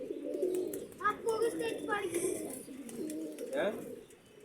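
Pigeons coo repeatedly in a bird-keeping setting, soft low rolling calls running through the whole stretch while someone talks over them.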